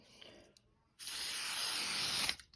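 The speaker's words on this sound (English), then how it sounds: "You're just going to put a light coat of spray on top." Workable fixative sprayed from an aerosol can in a light coat over art tiles, one steady hiss lasting over a second after a brief quiet pause.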